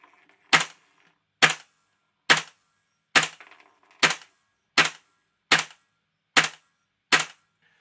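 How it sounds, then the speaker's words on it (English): A gas airsoft pistol fitted with a Volante nozzle fires 0.2 gram BBs: nine sharp, close, evenly spaced cracks in a row over a quiet background. "I'm going to do 10 shots and see what it's like."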